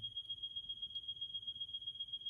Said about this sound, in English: they're testing our fire alarms today in the building.